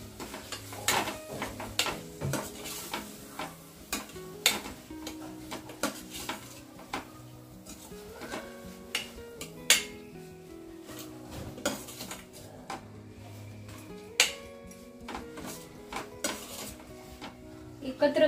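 A metal spoon scrapes and clinks against a pan as dried shrimp (jawla) is stirred and mixed, with irregular knocks and rattles of cookware close up, and a faint sizzle underneath.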